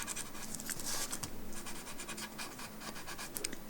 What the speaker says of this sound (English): just use the lovely point of your tortillon to just mush the graphite into the texture of the paper